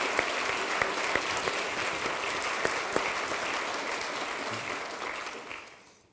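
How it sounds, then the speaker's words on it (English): Sustained clapping from a large audience at an outdoor university garden party, steady and dense for about six seconds before tapering off at the end, with no voices over it. "Could you join me in a big round of applause for Tom?"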